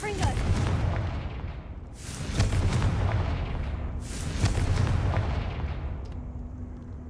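A Confringo blasting spell in Hogwarts Legacy sets off repeated booming explosions, three heavy bursts with rumbling tails spaced a couple of seconds apart, loud and close.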